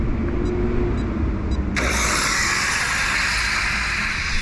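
Kyosho RS4 nitro RC car engine bursting into a loud, steady high-pitched buzz after a brief quieter start, running continuously close by.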